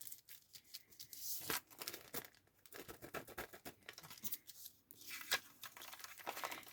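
Brown paper envelope being handled and folded into a corner bookmark, giving a run of close, uneven crinkling and rustling paper noises with short sharp crackles, no talking.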